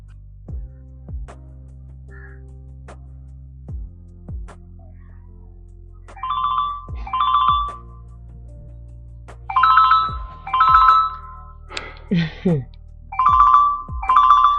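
A mobile phone rings with a repeating electronic ringtone for an incoming call, bursts starting quietly then getting louder in clear rhythmic pairs, with low thumps and brief sounds between rings.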